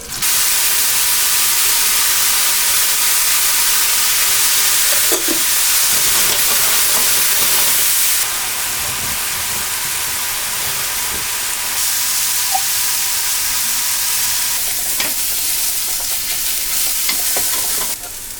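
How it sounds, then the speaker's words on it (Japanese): Mushrooms sautéing in a pan for a Paris-style beef stew, giving a steady, loud sizzle and hiss throughout with occasional stirring scrapes and clinks, no voices. "続いてシチューの中に混ぜ合わせるマッシュルームを炒めます。"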